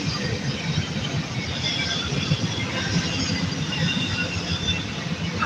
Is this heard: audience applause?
no